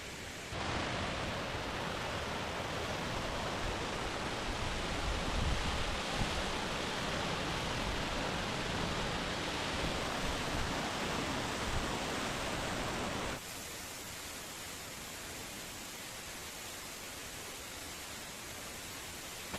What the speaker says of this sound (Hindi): मोनेस्ट्री के पास ही ये खूबसूरत वाटरफॉल भी है।